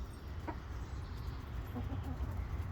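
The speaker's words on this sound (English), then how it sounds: "Oh, fucking chickens." Chickens cluck softly nearby in a few brief, faint calls over a steady low outdoor rumble.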